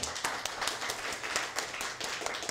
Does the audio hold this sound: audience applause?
yes